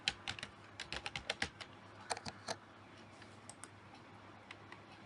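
Someone types a short word into an app search bar on a computer keyboard, a quick burst of close key clicks followed by a few scattered taps, then near silence.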